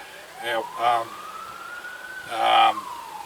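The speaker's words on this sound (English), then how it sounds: "Got the sirens going." A siren wails in the distance, its tone slowly rising and falling, while a person speaks over it in short bursts.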